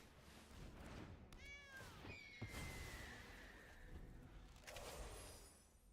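A cat meows in a short, harmonic cry and then a longer, drawn-out tone during a Magic: The Gathering draft match. A soft whoosh is mixed in, and no one talks over it.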